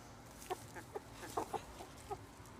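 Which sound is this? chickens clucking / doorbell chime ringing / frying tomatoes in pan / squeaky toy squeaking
chickens clucking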